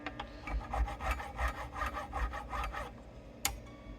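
Repeated rasping strokes of a small tool scraping debris out of the fret slots of a Fender guitar neck, a steady rhythmic rub of roughly ten close strokes, with one sharp tick near the end and no talking.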